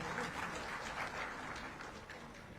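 Steady applause from an audience at a live news broadcast of a job offer-letter ceremony, a dense continuous patter of many hands held at an even, moderate level throughout.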